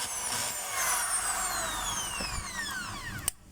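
Hammer drill being test-run without a screw after a broken wire was repaired, a high whirring spin that slows and drops in pitch as it winds down, followed by a sharp click.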